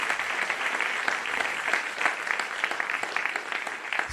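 A convention audience at a CONvergence 2021 game show bursts into sustained applause after a contestant earns a perfect score, a thick continuous patter of many hands clapping, steady and fairly loud throughout.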